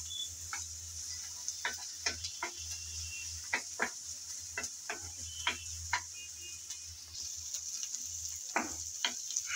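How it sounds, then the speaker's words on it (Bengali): Chopped onion frying in hot oil for a turnip and fish dish, with a continuous soft sizzle punctuated by regular clicks and taps of a spatula against the pan, close but fairly quiet; no talk. "গরম তেলে দিয়ে দিলাম পেঁয়াজ কুচি। পেঁয়াজ কুচি দিয়ে নেড়ে চেড়ে হালকা ব্রাউন কালার করে ভেজে নেব।"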